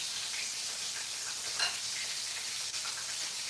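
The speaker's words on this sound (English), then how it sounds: "all you're doing is browning the cornmeal and flour" Banana blossom pieces coated in cornmeal and flour sizzle in hot oil as vegan fish browns, a steady, close frying hiss with a faint crackle and one small pop partway through, no voices.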